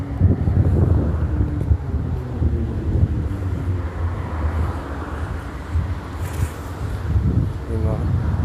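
Wind blows outdoors beside a street, a steady broadband rush with buffeting against the microphone throughout, low vehicle rumble underneath and a person talking over it.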